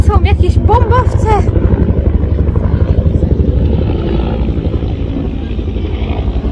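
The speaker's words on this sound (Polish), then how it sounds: "A tam takie ogromne helikoptery. Wysoko." Loud, steady rotor thumping from large helicopters passing high overhead, a pulsing low drone that fills the whole stretch, with brief voices near the start.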